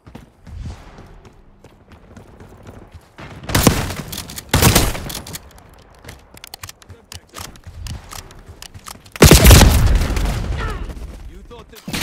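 Gunfire in Call of Duty Black Ops 6 erupts in several loud bursts of shots, the heaviest near the end, with quieter stretches and some talk between them.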